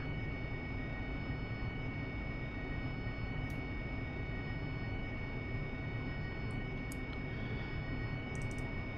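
An AV-8B Harrier jet taxiing in DCS World: a steady, continuous engine whine and roar holding level throughout, with a few faint ticks near the end.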